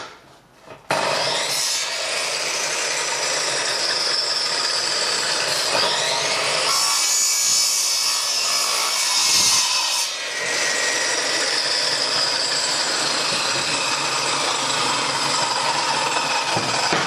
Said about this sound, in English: we can cut all the pieces to length so they fit together nicely